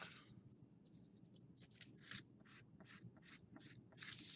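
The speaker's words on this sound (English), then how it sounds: "Just a little bit of sanding." Quiet, rhythmic back-and-forth rasping strokes of sandpaper on a small wooden model-airplane strut, about a dozen short passes, close and alone.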